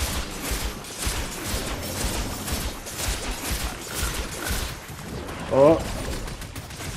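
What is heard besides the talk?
gunfire shooting a rock in Fortnite video game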